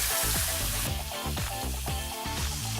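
A lamb rack sears in olive oil in a cast iron pan, giving a steady bright sizzle along with a repeating rhythmic patter, close and moderately loud, with no talking.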